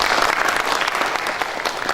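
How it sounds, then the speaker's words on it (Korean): Audience at a public legislative hearing applauding to welcome a panel discussion guest: brief, even clapping from a roomful of people, moderately loud and steady, with no talk over it. "박수로 환영해 주시죠"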